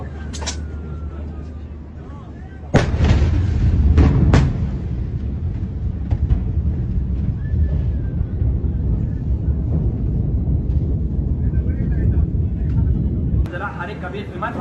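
A huge explosion at the port of Beirut bursts in with a sudden heavy boom, then a sustained loud roaring rumble as a large fire burns, with excited voices talking and shouting throughout and another sharp burst near the end.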